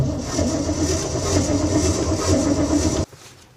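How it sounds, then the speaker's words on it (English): An old vehicle's engine turning over as the key is held, a loud continuous cranking churn with rhythmic pulsing that runs for about three seconds and then abruptly cuts off without catching. "So I'm just turning the key right now to start the vehicle."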